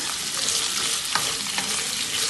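Salted potatoes fry in a pan for aloo posto, a dense, steady sizzle with a couple of faint stirring scrapes, close and unbroken, with no one speaking.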